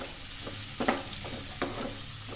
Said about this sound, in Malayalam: 3 സവാള അരിഞ്ഞിട്ടുണ്ട്, അത് നമുക്ക് വഴറ്റാം